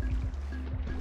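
Water sloshing and splashing in the video game Rain World, a short continuous gurgling wash with low rumbling game ambience underneath.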